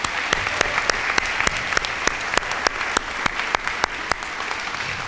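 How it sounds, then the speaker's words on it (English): Sustained applause from the audience at a military academy speech contest final, a dense wash of many hands clapping steadily and fairly loudly, with a few sharper individual claps standing out and no talk over it. "So let's give them another round of applause"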